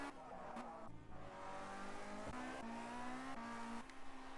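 Formula C race cars lap Cadwell Park circuit during a race, engines droning steadily with pitch shifts as cars pass and change gear, moderately loud and continuous with no talk.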